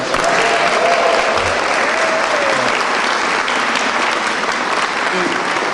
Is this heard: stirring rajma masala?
no